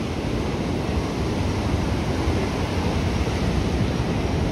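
Strong sea waves roll at Marina Beach in Chennai, a loud, continuous wash of surf blended with wind rumble, steady and close without talk.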